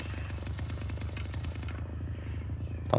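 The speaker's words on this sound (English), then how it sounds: "Stop the chainsaw." A chainsaw in the video game The Texas Chain Saw Massacre buzzes with a fast, even, pulsing rattle, steady and close for the whole few seconds, its upper edge softening near the end.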